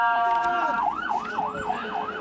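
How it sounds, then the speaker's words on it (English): An ambulance siren wails while passing through a street protest in the West Bank, first a steady high tone, then a loud rising-and-falling yelp repeating several times, near and prominent over crowd noise and voices. "Ambulance coming through."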